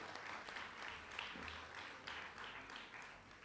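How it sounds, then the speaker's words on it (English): Audience at a medical graduation and white coat ceremony gives faint, distant applause, a steady patter of clapping throughout with no voices. "Round of applause, everybody."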